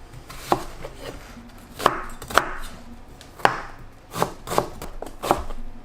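An onion being chopped with a knife on a board: about ten distinct, crisp knife strikes in an uneven rhythm with quiet pauses between them, close and fairly soft, no voices.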